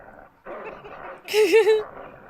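A dog in a film gives a few short yips and whimpering barks at moderate volume, with a louder cluster near the end and other soundtrack noise around it.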